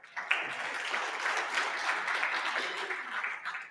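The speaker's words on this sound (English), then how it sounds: "And please give yourselves a round of applause." At a stakeholder roadshow in Johannesburg, an indoor audience bursts into dense, continuous applause that holds strong for several seconds, then tapers off at the end.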